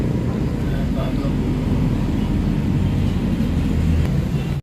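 A Suzuki K6A engine in a DA64/DA63 mini van, heard as a loud, steady low rumble that holds fairly even as the accelerator is pressed, then cuts off abruptly at the end.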